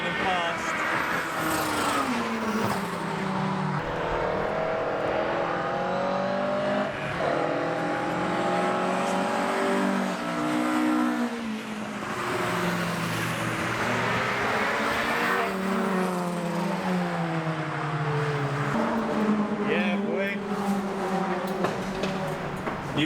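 Race cars lapping Brands Hatch in the wet with turbo anti-lag running, a continuous loud engine drone with rising and falling revs and pops, under frequent talk.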